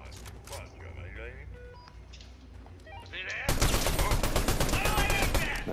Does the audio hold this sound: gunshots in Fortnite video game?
yes